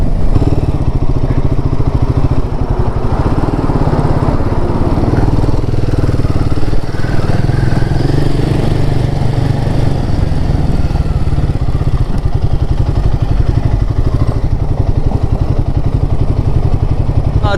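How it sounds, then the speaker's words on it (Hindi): Strong wind blasting past a motorcycle ridden along a highway near windmills, a steady loud roar with low rumble and engine drone that runs unbroken throughout. "जहाँ पे विंड मिल्स होती है वहाँ पे विंड ब्लास्ट बहुत ज़्यादा होता है"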